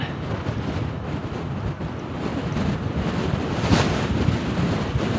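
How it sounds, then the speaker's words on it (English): Wind rushing over a rider on an e-bike in cool weather, a continuous loud buffeting roar across the microphone that swells and gusts slightly, with no speech. "the wind blows up against you when you're riding"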